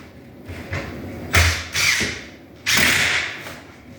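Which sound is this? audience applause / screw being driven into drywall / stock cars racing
screw being driven into drywall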